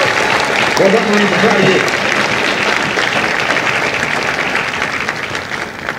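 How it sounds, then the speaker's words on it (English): Loud crowd applause at a Marine Corps recruit graduation ceremony in San Diego, honoring the drill instructors; sustained dense clapping with someone speaking briefly over it near the start. "Would you join me in a final round of applause for the Marines to make Marines, the drill instructors?"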